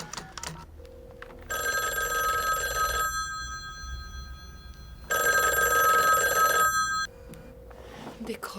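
Telephone in a French horror film ringing with an electronic bell tone, two long bursts of about one and a half to two seconds separated by a pause, fairly close and clear, with faint background sounds between rings.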